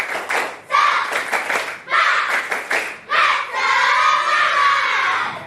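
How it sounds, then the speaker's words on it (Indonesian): Schoolchildren in a classroom performing a rhythmic spirit clap, several groups of fast patterned claps separated by brief gaps, mixed with loud chanting voices and closing on an extended shouted cheer. "Tepuk semangat."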